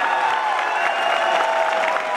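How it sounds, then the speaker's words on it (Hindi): Dense applause from an audience at a wellness company vision and mission event, a continuous loud wash of many hands clapping without pause from start to finish. "आप लोग अपने लिए अभी तक की सबसे जोरदार तालियां बजाएंगे"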